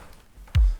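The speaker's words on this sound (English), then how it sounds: "That's the kick drum." A single deep, booming kick drum thump lands near the end after a moment of near silence.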